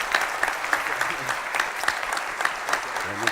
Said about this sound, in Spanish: la manera de agradecer es un gran aplauso